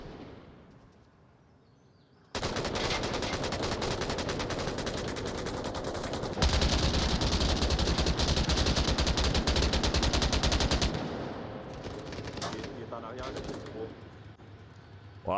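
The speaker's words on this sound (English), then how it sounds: "A lot of blind fire from Sims." Sustained bursts of rapid automatic gunfire in the VR video game Onward, loud and continuous for several seconds, then easing into scattered shots with a voice talking over them.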